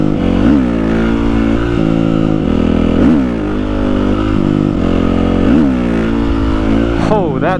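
A Honda CRF450R supermoto motorcycle revving hard through wheelie attempts, its engine climbing and falling in repeated loud surges close by, with a rider's voice mixed in.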